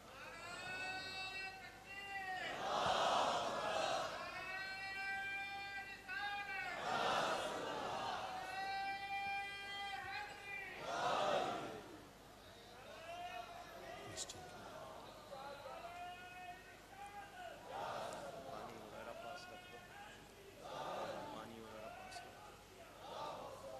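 A crowd chanting slogans at an annual Urs gathering: rhythmic waves of many voices rising and falling in repeated call-like phrases, moderately distant and reverberant.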